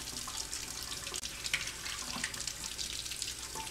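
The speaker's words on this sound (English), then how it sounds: "washing my stencil under running water, under tap water" An etching stencil is rinsed under a running tap, with a steady close hiss of water splashing and small bursts of spatter as it is handled, no voices.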